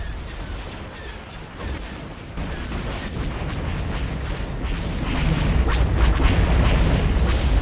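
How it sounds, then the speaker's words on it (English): Continuous booming weapons fire from a Mon Calamari cruiser and destroyers during a space battle over Geonosis in Star Wars: Empire at War: Forces of Corruption, a dense rumbling barrage that swells slightly louder toward the end. "Open fire on those laser cannons."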